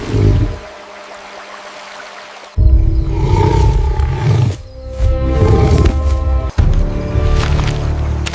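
Lion roaring in the wild near a stream, several loud, deep, rumbling roars in close succession.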